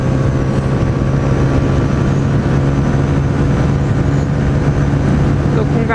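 A Honda Titan motorcycle engine drones steadily and loudly at speed while climbing a hill with a passenger aboard, wind rushing throughout.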